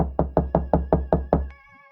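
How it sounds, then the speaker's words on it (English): Knocking on a door as a horror story sound effect: seven sharp, evenly spaced knocks, loud and close, followed by a faint lingering tone. "Knock."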